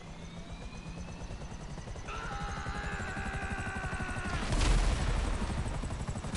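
A helicopter in GTA 5 Online whirs with a steady rotor chop that swells louder, joined by a sharp burst of gunfire or a heavy impact partway through.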